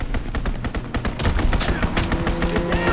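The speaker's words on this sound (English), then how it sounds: "Enemy strafing run inbound." Rapid machine-gun fire from an enemy aircraft strafing run in Call of Duty: WWII multiplayer on the Flak Tower map, loud dense bursts of gunshots in quick rhythm, intensifying midway, with faint game background under it.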